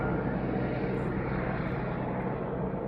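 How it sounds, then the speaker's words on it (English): A helicopter flies overhead with a steady, loud broadband engine and rotor roar that holds constant throughout, with no voices. "This helicopter's been up here bugging me for like 2-3 weeks every day long."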